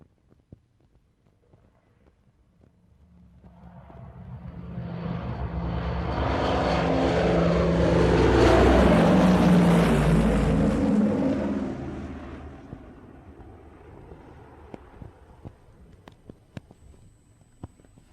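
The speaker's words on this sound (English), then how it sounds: "A student pilot is just bringing a 4-engine machine down to land." A four-engine propeller airplane flown by a student pilot approaches to land, roars loudly overhead as it comes low, then climbs away and fades, with faint clicks afterward.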